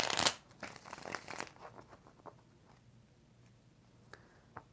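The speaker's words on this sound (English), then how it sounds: "All right, 5 shuffles." Tarot cards shuffled by hand during a live reading, a burst of riffling at the start followed by quieter intermittent card handling and soft taps, close and alone without talk.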